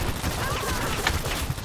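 Rapid video game sniper gunfire crackles as a dense, continuous volley, loud and close, with chaotic battle noise filling the whole stretch.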